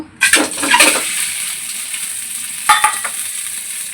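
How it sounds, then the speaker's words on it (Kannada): An egg drops into hot oil in a pan and bursts into a loud close sizzle that settles to a steady hiss, with a second sharp crackle flaring up near the end. "ಮೊದಲನೇದಾಗಿ ಸ್ವಲ್ಪ ಬಾಂಡಲಿಗೆ ಎಣ್ಣೆ ಹಾಕ್ಬಿಟ್ಟು ಎಗ್ ಫ್ರೈ ಮಾಡ್ಕೊಳ್ಳೋಣ."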